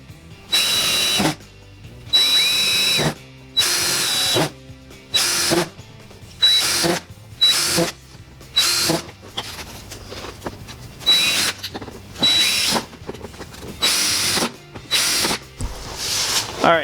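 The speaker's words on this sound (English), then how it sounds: "I'm just going to drill a series of random holes here to allow some air to get into the front bumper" A power drill bores a series of holes into the plastic front bumper of a C5 Corvette during a ZR1-style lip install, roughly a dozen loud whining bursts separated by short pauses, close to the microphone.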